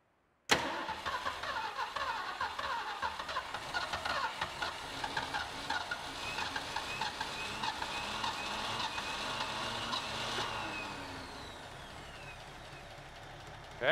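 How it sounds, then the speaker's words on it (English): A flooded Ford engine cranks, catches and settles into a steady idle, loud and close, with rhythmic pulsing that fades slightly toward the end. "Well, it's idling"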